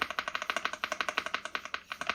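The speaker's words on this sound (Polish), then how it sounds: "posłuchajcie sobie, jak ta klawiatura brzmi, jak te przełączniki brzmią" A Yunzii AL65 mechanical keyboard is typed on close up, its switches giving a fast, even stream of crisp clacks in a steady rhythm, heard alone without any voice.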